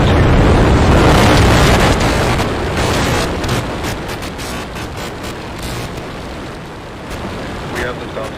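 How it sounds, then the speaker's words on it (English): A SpaceX Starship rocket lifts off on its fourth test flight with a broad, distant roar that swells loud at first and then slowly fades, with a voice speaking over it. "We have liftoff."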